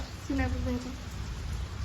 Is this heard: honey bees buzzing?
no